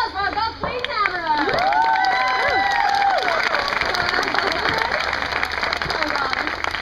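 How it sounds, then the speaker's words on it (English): At an outdoor Renaissance Faire show, a crowd claps and cheers loudly and continuously for a newly named Gulf Queen, with shouts, whoops and high-pitched voices rising over sustained applause. "Big round of applause for our Gulf Queen Tamara."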